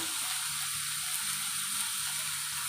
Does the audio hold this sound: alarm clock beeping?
no